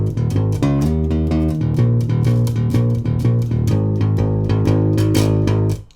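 An electric bass plays a chorus transition, a busy run of punchy plucked notes with steady rhythm, close and loud, ending in a short cutoff.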